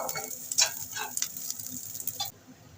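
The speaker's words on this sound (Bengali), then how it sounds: "তেলের উপরে এইভাবে রসুন আর কাঁচা লঙ্কাটাকে প্রথম ভেজে নেব আস্তে আস্তে করে" Garlic and green chilies fry gently in hot oil in a pan, giving a close, soft sizzle with a few stirring scrapes before it cuts off abruptly near the end.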